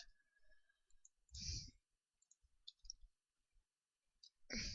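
A computer keyboard clicks in sparse, quiet taps, with a few louder bursts of handling noise in a near-silent room.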